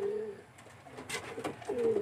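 Young racing pigeons in a widowhood-system loft give soft, low cooing calls at the start and end, with light rustling and shuffling between them.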